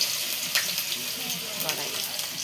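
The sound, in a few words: eggplant fritters coated in rice flour frying in a wok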